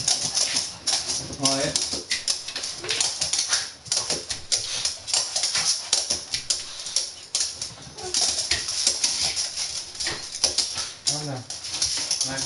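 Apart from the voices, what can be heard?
new puppy Tilly whimpering and moving around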